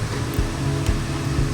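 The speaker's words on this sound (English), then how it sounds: "You can hear the fountain right now" A fountain on the far side of a museum building in Ho Chi Minh City gives off a steady, muffled rush of falling water. It heard from indoors through a window, with a low background rumble and faint thumps.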